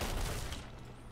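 Cannon fire during a Sea of Thieves pirate-ship battle, a brief, loud, muddy burst of booming blasts that fades within about a second.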